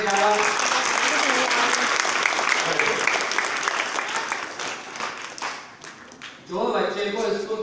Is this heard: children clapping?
yes